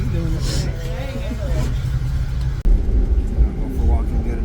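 Low steady rumble inside an Amtrak passenger train carriage on a long ride, a continuous close drone with a brief dropout midway, and people talking over it.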